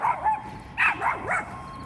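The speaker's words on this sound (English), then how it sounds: "That dog is not bothering you." A small dog gives several short, high yipping barks mixed with whiny whimpers, close and fairly loud, with no talking.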